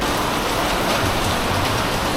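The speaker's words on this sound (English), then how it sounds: "it rains heavily" Heavy rain falls steadily in a riverside town, a dense continuous hiss of drops on surfaces, loud and close with no other sounds.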